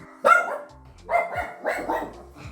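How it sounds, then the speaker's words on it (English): A dog barks nearby in a quiet room, several sharp, separate barks with short gaps between them. "I'm filming and the dog starts to bark"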